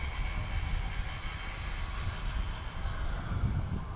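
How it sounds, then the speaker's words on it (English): Faint, distant airflow rumble from a Hobbyking Durafly Excalibur RC plane flying by far off, a low steady rush without distinct motor tone. "when you do throttle off, it still has so much energy that it actually whizzes past at a very, very good speed"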